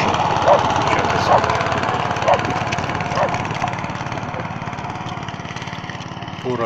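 Motor Sich MB-9E walk-behind tractor engine running steadily in third gear while pulling horse harrows across a field, a continuous loud buzzing drone with faint periodic knocks, close by.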